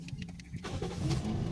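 A Toyota Vios engine with a long-cranking, low-power fault cranks briefly, then catches and settles into a steady running rumble close by.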